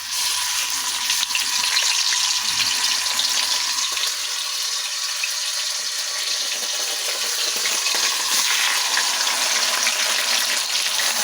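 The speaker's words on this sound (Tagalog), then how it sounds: "So ngayon, lutuin po natin itong ating ham." Ham frying in a pan for a home breakfast, a steady broadband sizzle with watery crackle holding at an even level throughout, close by and uninterrupted, with no talk over it.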